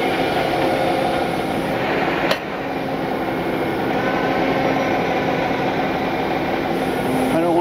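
A vehicle engine idles steadily in reverse with no throttle, a continuous low rumble holding through the whole stretch, interrupted by one brief click partway through.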